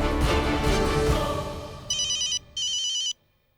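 A telephone rings on an outgoing call, two bright electronic ring bursts following a fading stretch of background music, then silence.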